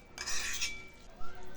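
A spoon stirring spices, sumac and pomegranate sauce in a small bowl for a tomato salad, a soft brief scraping swirl followed by a light tap, quiet and close.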